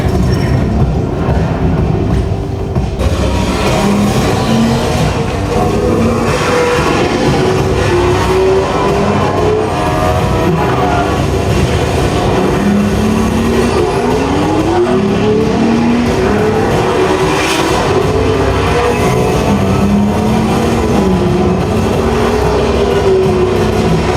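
A Mercedes-AMG One hypercar with its F1 engine drives past loud and close, its engine note rising and falling through shifting pitches over a steady roar, with no voices present.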